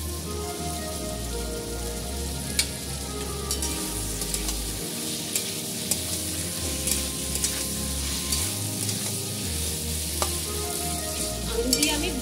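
Chicken and potato pieces sizzle in hot oil in a pan for chicken ghugni, with a steady frying hiss and scattered stirring scrapes and clacks throughout, close and continuous with no talking.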